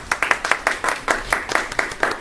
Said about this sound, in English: Good job. Round of applause.